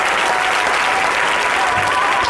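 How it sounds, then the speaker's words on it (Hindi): An audience at a Gandhi Jayanti school speech gives loud, continuous applause, a dense wash of many hands clapping with no pauses. "जोरदार तालियों से उनका स्वागत कीजिए।"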